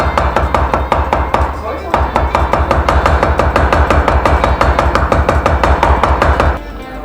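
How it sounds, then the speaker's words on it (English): A knife chops sardines, skin on, against a cutting board in a fast, steady stream of sharp, loud close thuds, with a brief pause near the two-second mark. "So we're gonna chop this."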